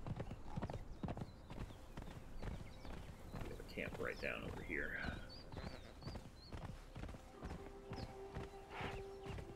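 Horse hooves clip-clop at a steady walking rhythm in the Conan Exiles multiplayer game, running throughout beneath conversational talk, with a brief whinny-like tone midway.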